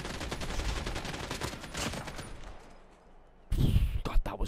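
Rapid bursts of gunfire in a video game, steady and moderately loud for several seconds, then fading before a louder jumble of game noise and a voice at the end.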